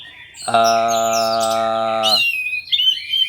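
An orange-headed thrush (anis merah) with a broken, regrowing beak gives a single loud, sustained harmonic call lasting almost two seconds, with fainter chirps after it.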